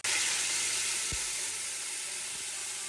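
Ghee sizzling steadily in a pot while chicken biryani is cooked for dum, a dense, continuous frying hiss that holds evenly throughout, close and fairly loud, with a soft knock or two of a utensil and no talking.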